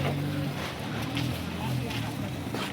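A tractor engine idles at an onion market in Maharashtra, a steady low rumble beneath nearby people talking and the general market bustle.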